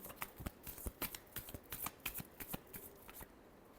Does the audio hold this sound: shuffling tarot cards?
yes